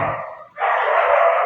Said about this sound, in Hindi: बगल कुत्ते वगैरह भौंक रहे हैं